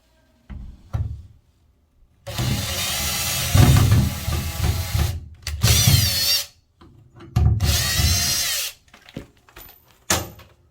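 A power drill drives screws into a bathroom ceiling during renovation finishing work, with several bursts of whirring motor a second or two long separated by short pauses, plus a few knocks and handling clicks.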